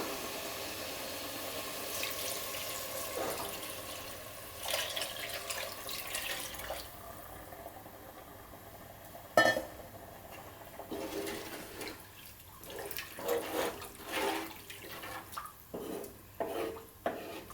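Mutton soup is poured into a simmering curry gravy for mutton kulambu, a soft liquid pour and splash followed by stirring and clinks of a pan, fairly faint and close.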